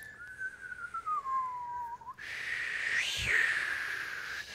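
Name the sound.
people whistling to imitate wind, a breeze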